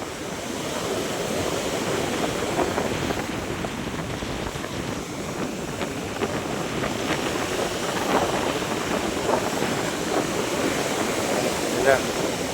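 Sea waves wash onto an eroding beach at Bucana, strewn with driftwood and trash after the monsoon, in a continuous close roar with wind buffeting the microphone and faint voices in places.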